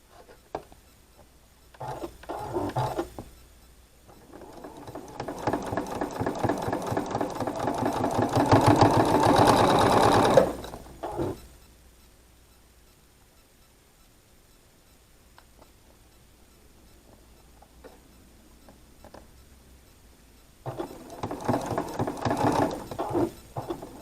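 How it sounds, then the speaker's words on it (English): A sewing machine stitches triangles onto a chocolate-dipped strawberry quilt block, a close whirring run that builds for several seconds, stops into a long quiet stretch with faint handling, then starts up again. "Let's go sew these"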